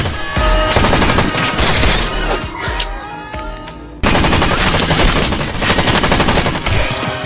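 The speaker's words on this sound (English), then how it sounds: "Soon after, Luke arrives and immediately fires at Red. Red dodges, but Leroy is not so lucky. Officer Sanchez engages in a gunfight with Luke." Rapid bursts of gunfire fill a film gunfight between a gunman and a police officer, loud dense volleys of automatic and single shots, close and continuous with a brief lull partway through.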